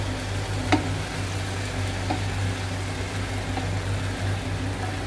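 Karela gosht with tomatoes and a splash of stock fries in a pot over full flame, giving a steady close sizzle and hiss with a couple of soft utensil knocks and a low continuous hum.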